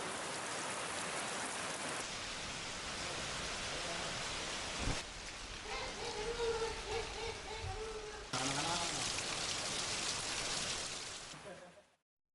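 Widespread rain falling in Perambalur district villages, a steady hiss of rainfall that continues throughout, with a few faint, brief tones in the middle before it fades out at the end.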